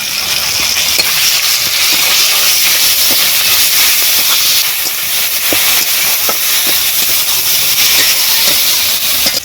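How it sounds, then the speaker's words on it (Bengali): Onion paste, tomato, turmeric, chili powder and ginger and garlic pastes hiss loudly in hot oil during village-style cooking, a dense, unbroken sizzle filling the whole stretch with faint ticks underneath. "তেলের ওপরে দিয়ে দিচ্ছি পেঁয়াজ বাটা টমেটো হলুদ গুঁড়ো লঙ্কা গুঁড়ো আদা বাটা রসুন বাটা"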